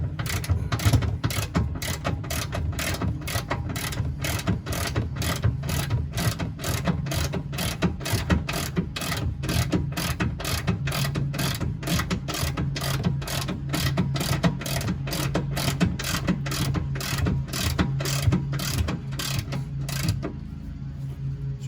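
A ratchet turns a long bolt out of the front suspension of a 2012–2016 Hyundai Accent. Its clicks are steady, evenly paced and close, and they run on without a break.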